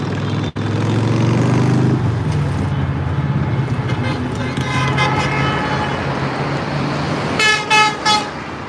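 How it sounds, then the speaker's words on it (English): Car horns honk from vehicles in a Los Angeles street during a protest, with a steady rumble of traffic and crowd noise underneath and a cluster of loud, repeated beeps near the end. "Everybody beeping their horns in support of what's going on in Los Angeles."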